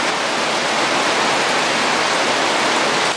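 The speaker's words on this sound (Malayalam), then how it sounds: "മഴയായതുകൊണ്ട് കേൾക്കാവോ എന്ന് എനിക്ക് അറിയത്തില്ല കേട്ടോ. പക്ഷെ നല്ല പെരുത്ത മഴയാ." Heavy rain falls hard and unbroken during village cooking in Wayanad, a thick, loud, even roar with no voices over it.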